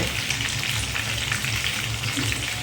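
Pieces of chicken satay fry in hot oil, giving a continuous, even sizzle and crackle close by, with no voices over it.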